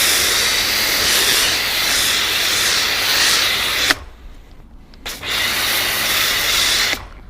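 A strong water spray rinsing the grills of a Porsche GT3 RS, a loud steady hiss that cuts out briefly midway, returns in a short burst, then resumes.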